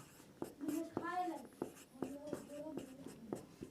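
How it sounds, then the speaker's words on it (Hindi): Pen strokes writing out the coordinates of point E during a coordinate geometry lesson, a series of short scratchy taps and strokes heard close up beneath a steady teaching voice. "यहाँ पे लिखेंगे ई का निर्देशांक"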